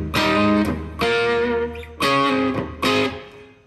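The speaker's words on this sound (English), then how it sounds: "to a little bit more distortion." A distortion effect pedal adds gain to an electric guitar signal, heard as four loud, sustained, gritty chords, each held for roughly a second with short gaps between them.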